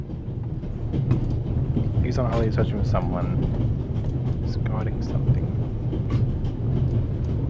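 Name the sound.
moving train interior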